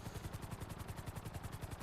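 Helicopter rotor from the video game GTA V, a faint, steady rhythmic thumping of blades repeating quickly and evenly throughout.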